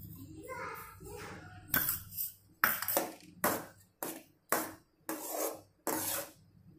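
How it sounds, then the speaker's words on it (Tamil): A spoon scrapes through rava kesari with ghee and sugar in a pan, giving a series of firm, rhythmic stirring strokes, about one a second, that grow louder after a quieter start. "கொஞ்சம் நெய் விட்டு கிளறிக்கோங்க"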